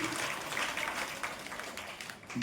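An audience at an outdoor religious gathering at a temple claps continuously, a dense, steady patter of many hands lasting the whole moment.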